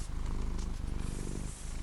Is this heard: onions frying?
no